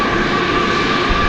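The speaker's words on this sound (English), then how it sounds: "on its way to runway 18 left for aforementioned takeoff" Steady, loud engine drone from an airliner taxiing toward runway 18 Left at DFW Airport at night, a continuous whine and rumble with no talk.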